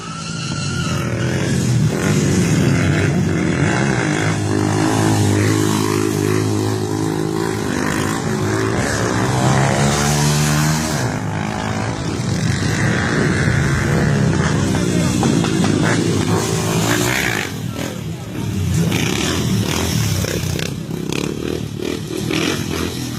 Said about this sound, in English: Real stunt riding.